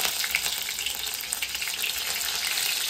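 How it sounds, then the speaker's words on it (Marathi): Garlic and green chilies frying in hot oil in a pan, a loud continuous close sizzle with crackling spits throughout and no voices. "तेलामध्ये मी आता लसूण टाकणार आहे, हिरवी मिरची टाकणार आहे"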